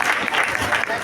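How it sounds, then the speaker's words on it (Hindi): A crowd at a Christmas program in a Catholic church claps in a brief, dense burst, with voices mixed in. "इन सिंबल्स के लिए तालियां चाहिए आप लोगों की"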